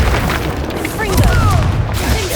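A deep, booming blast from the Confringo explosive curse in Hogwarts Legacy rolls out loud and close, with whistling streaks of spell effects over continuous game noise.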